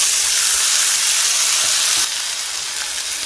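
Onions and tomatoes sautéing in a pan for a wedding-style okra pachadi, a loud, dense, steady sizzle up close with no voices, easing slightly in level partway through.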